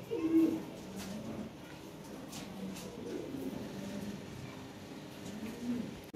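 Red Lahori pigeons coo softly in a pigeon loft, a low repeated murmur with faint background noise and no talking.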